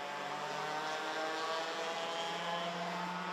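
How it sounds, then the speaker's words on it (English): A steady, droning engine roar of a junior racing kart's noisy exhaust holds at a constant, fairly faint distance on the start-finish straight, with no voices over it. "It's just that noisy exhaust is definitely making its way down the start-finish straight right about now."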